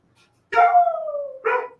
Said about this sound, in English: Let it bark. Let him bark. Howl.